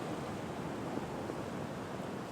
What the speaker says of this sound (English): We've got these waves coming in. Some big waves as well.